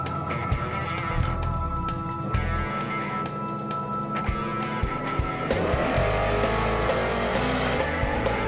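Drag race cars launching side by side in a pinks race, engines roaring loud and close with tire squeal and rough revving, then a shift to a deeper surging roar as they pull away.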